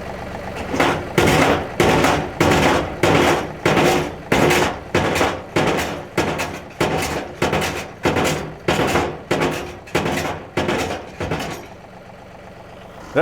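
A homemade concrete mixer's hydraulic system runs with a loud, rhythmic, pulsing churn, about fifteen heavy repeating surges at roughly even intervals, close by, then it stops and leaves a quieter hum.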